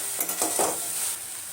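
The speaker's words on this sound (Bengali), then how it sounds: "মাছের প্রিপারেশনটার মধ্যে আমি কালো জিরা দিয়ে দিলাম।" Black cumin seeds crackle and sizzle as they hit hot oil in a pan for a fish curry, with a steady close fry hiss and a few brief stirring scrapes near the start.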